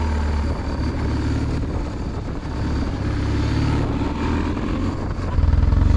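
A motorcycle's engine runs loud and close in a steady drone for several seconds, then the revs rise sharply near the end as it pulls away from a standstill during bike handling practice.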